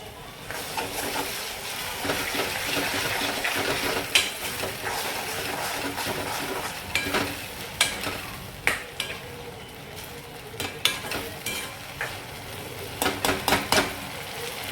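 Ground tomato added to onions cooking in a pan, giving a steady sizzle with stirring and scattered spoon clinks and scrapes against the pan, close and moderately loud, no speech.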